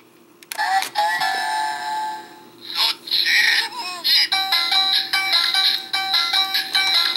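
Ninja StarBurger toy from Ninninger plays an electronic sound effect after its button is pressed, loud chiming beeps and rapid repeating electronic tones over about seven seconds.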